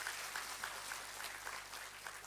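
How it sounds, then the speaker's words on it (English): An audience claps in a soft, steady patter of applause, heard from some distance and fairly faint throughout. "let's all give a big round of applause to Paridhikar"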